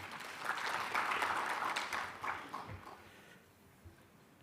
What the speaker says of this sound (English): So can we also give them the round of applause?